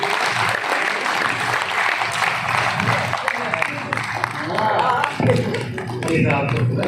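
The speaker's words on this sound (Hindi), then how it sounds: "यार ताली जोर से बजाएं।" Loud, sustained clapping from an audience at a stage event in Jammu, a dense wash of hand claps with a crowd murmur, swelling again near the end.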